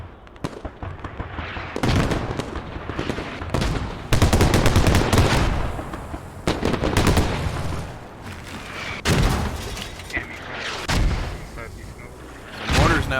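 Mortar rounds landing on a forward base in the Squad war game, loud booming impacts and gunfire crackle recurring every second or two under steady commentary.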